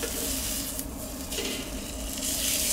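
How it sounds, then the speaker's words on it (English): Steak searing on a hot cast iron plate gives a loud, steady sizzle and crackle close up, with faint scraping as the meat is moved around. "you can hear that sizzle"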